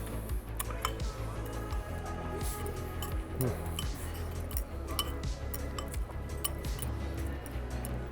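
Utensils clink and scrape against a dish while crab meat is mixed into noodles at a seafood buffet, with steady restaurant chatter and background clatter.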